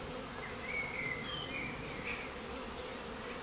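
Honeybees buzz continuously around a bait hive holding a brood box, a dense, even drone with individual bees zipping past close by.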